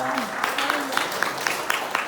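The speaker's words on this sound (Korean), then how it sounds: "박수하겠습니다" A short stretch of steady clapping from a church youth group, moderately loud, with a voice speaking faintly underneath.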